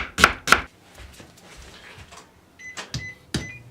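Knife chopping onions on a board, a couple of sharp knocks at the start and a few more near the end, separated by quieter kitchen rustling.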